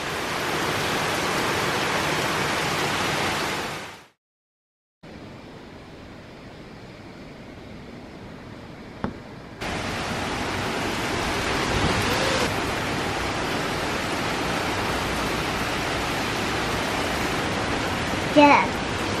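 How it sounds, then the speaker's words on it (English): Heavy Florida rain pours as a dense, continuous roar. The downpour cuts out briefly and then resumes, with an occasional faint rumble of thunder beneath it. "There's some thunder, but it's fairly typical rain so far for Florida."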